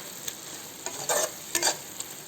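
Anchovy (nethili) fish curry cooking in a pan: an even background sizzle with a few short, soft bursts of stirring scrapes, close and moderately loud, with no voices.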